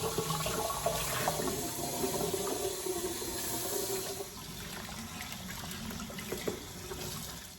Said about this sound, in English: I'm just gonna rinse this one out.